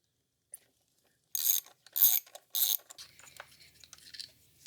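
A ratchet backs out 10mm bolts on the 3.0 LF1 engine of a 2011 Cadillac SRX, three crisp bursts of close, rapid clicking followed by softer scattered ticks and clinks.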